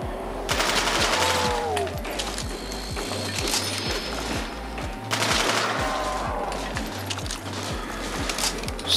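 Rapid automatic gunfire from a weapon in Black Ops 1 Zombies, a loud steady stream of evenly spaced shots running the whole stretch with brief louder bursts layered over it.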